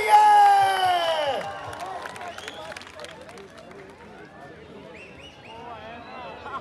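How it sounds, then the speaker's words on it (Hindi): Crowd at a Pakistani Night comedy show in Swuaidi Park, Riyadh, claps and cheers after a brief loud tone at the start, settling into a moderate, scattered mix of clapping and crowd noise. "ताली होनी चाहिए।"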